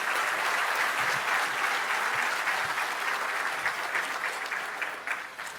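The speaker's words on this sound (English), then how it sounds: "Please give these wonderful sponsors an applause for all their help." Sustained applause from an awards-ceremony audience honoring police and law-enforcement sponsors, a steady, full wash of many hands clapping at an even level before tapering slightly at the end.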